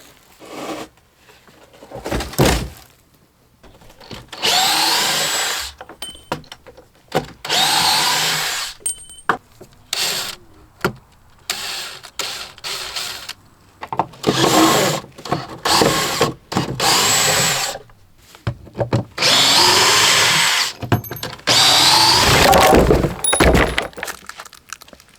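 A power drill drives screws during siding and window work on a small trailer: repeated short whirring bursts that stop and start with pauses between them, close and loud.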